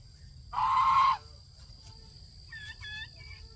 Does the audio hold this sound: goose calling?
yes